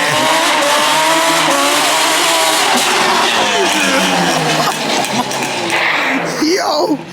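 Yamaha Banshee ATV engine revving hard through a wheelie, a loud, rising and falling two-stroke whine heard close up, with excited voices over it.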